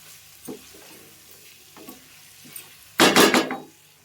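Butter broccoli sizzles in a pan as a piece of butter melts, with light stirring and scraping ticks before a loud burst of frying near the end.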